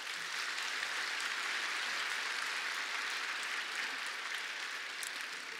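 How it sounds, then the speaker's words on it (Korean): A congregation in a church at a New Year revival dawn service applauds to welcome a pastor, a dense, steady wash of clapping that holds evenly throughout without any voices. "우리 큰 박수로 환영하겠습니다"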